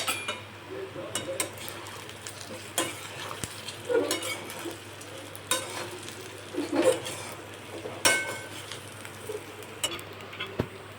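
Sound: mixing leftover dal rice muthiya batter with spices

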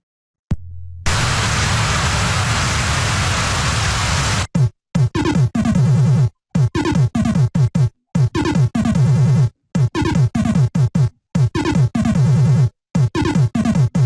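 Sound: Acorn Electron full screen demo video with sound

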